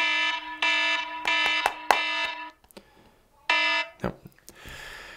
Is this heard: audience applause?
no